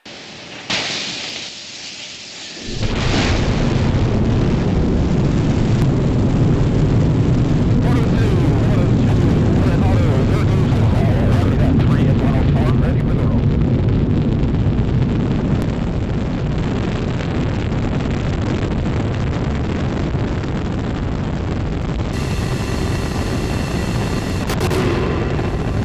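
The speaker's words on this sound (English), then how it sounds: "You saw those main engines light. They light 6 seconds before liftoff, but it's those solid rocket boosters that get you off the ground." Space Shuttle Endeavour lifting off, its main engines and solid rocket boosters roaring as a loud, sustained, broadband rumble that builds in after a few seconds of quieter sound and holds steady to the end, with no voices.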